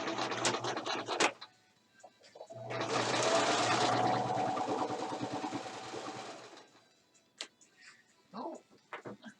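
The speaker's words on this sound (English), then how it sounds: "And we're just going to sew like a quarter of an inch in from the seam." A sewing machine stitching a fabric trivet a quarter inch in from the seam runs in one steady, close whirring burst of about four seconds, with brief voice and handling sounds before and after.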